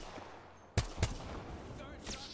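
Charge rifle shots in the Apex Legends video game, two sharp booming reports about a quarter second apart, heard at moderate volume over steady game ambience.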